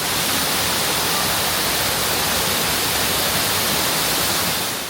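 A stream, diverted long ago through a medieval German town along a creek lined with buildings, rushes steadily as an even, broad wash of flowing water, loud and close with no voices.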